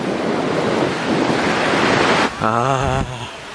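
Ocean waves break and wash onto a beach in a loud, steady roar mixed with heavy wind buffeting close to the microphone, ending with a brief tonal whine.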